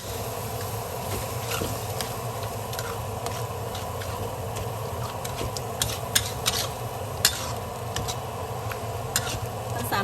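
Red pork bun filling being stir-fried in a pan, a steady low sizzle with scattered scrapes and clinks of a utensil against the pan, faint and continuous, no talking.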